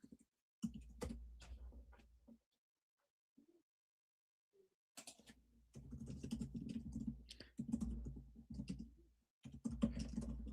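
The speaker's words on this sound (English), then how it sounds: "I'll just type this in." Someone types on a computer keyboard in bursts of rapid clicking with pauses between them, close and clear, with no talking.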